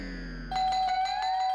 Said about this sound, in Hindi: पता नहीं अंदर घंटी सुनाई भी दे रही है नहीं।